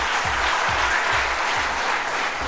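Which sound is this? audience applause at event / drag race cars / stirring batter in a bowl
audience applause at event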